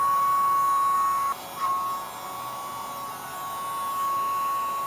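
A Wax Vac ear wax vacuum device runs with a steady high electric whine and hum close to the microphone, briefly cutting out and restarting partway through, no voices heard.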